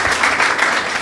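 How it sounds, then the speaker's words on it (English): Audience applause during a leadership dialogue session with Bernard Avle, a brief steady wash of clapping filling the room. "I think round of applause."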